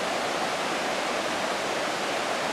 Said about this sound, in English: Just a loud roar as the water crashes down.